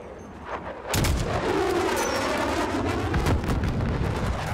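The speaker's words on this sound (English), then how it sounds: "Is that another mortar?" Mortar explosions in Call of Duty: Modern Warfare: a heavy blast erupts about one second in, followed by a long rumbling roar and scattered crackling debris, loud and close amid ongoing battle noise.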